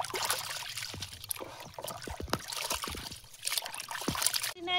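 Goat offal washed by hand in water at a riverside, with soft sloshing, trickling and splashing that keep going in uneven bursts, close and low in level.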